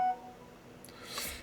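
A phone gives a quiet, short electronic notification beep and a brief tonal blip, faint and isolated against near silence.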